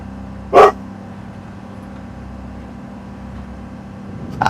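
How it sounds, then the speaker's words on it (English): A dog named Coda lets out one loud, sharp bark near the start, with a second brief bark at the very end, over a steady low hum of a racing game livestream. "That's Coda barking."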